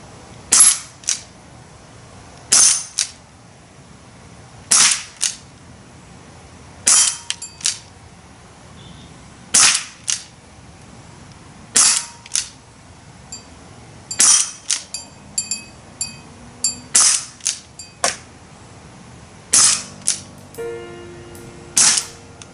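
Umarex Brodax BB air pistol firing a string of sharp, close shots, about a dozen cracks spaced a second or two apart, some followed by faint mechanical clicks, with no talking.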